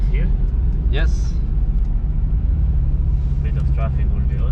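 A BMW M4 on the Nürburgring, its engine a steady, deep droning rumble heard from inside the car, with people talking over it throughout.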